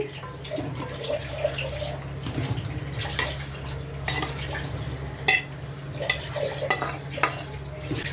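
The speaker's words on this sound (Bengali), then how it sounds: "এবার আমি মশলার মধ্যে ফুলকপি, আলু এগুলো সব অ্যাড করে দিচ্ছি।" Cauliflower and potato pieces tossed into frying masala and stirred, a continuous close sizzle with scraping and clattering stirring strokes and occasional pan knocks, no talk.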